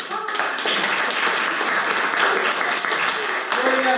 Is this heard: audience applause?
yes